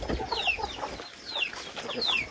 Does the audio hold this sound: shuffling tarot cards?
no